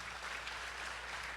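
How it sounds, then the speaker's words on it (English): Steady applause from a large crowd at a Day of Remembrance event in Los Angeles, a dense continuous wash of clapping that holds at an even level throughout. "A big applause for the panel."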